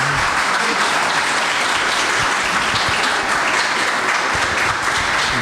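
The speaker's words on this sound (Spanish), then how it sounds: "Este público es bueno, no hay que mandarlo a aplaudir." An audience at a technical talk on MongoDB database implementation bursts into dense, even applause, loud and sustained across the whole stretch with no speech over it.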